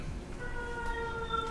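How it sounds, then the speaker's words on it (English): Emergency vehicle sirens captured over a 911 call line, a steady wailing tone held under faint phone-line noise, muffled and somewhat distant. "I hear a lot of sirens, so they must be coming here."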